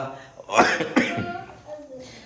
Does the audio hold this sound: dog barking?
no